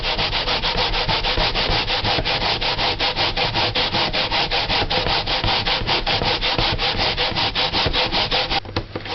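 Sweet potato grated by hand for pudding, a loud, rapid, rhythmic rasping of continuous strokes close up, with no talking.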